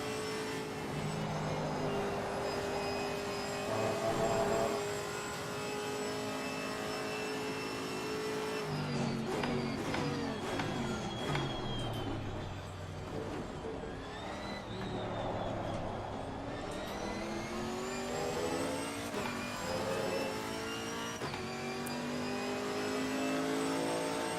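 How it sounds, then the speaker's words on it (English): A GT3 race car in Assetto Corsa Competizione at Spa sweeps past with a rising, then falling engine note, layered over the steady drone of the player's own car throughout. "There was the leading GT3 now, lapping me for the second time"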